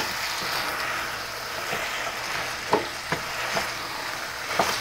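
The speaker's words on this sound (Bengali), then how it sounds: "এটাকেও আমি এই মাছের মাথার সঙ্গে সব মশলার সঙ্গে ভালো করে মিশিয়ে নিচ্ছি।" A rohu (katla) fish head fries with roasted moong dal and spices, a steady soft sizzle broken by several scraping stirs of a spoon in the pan, near and without talk.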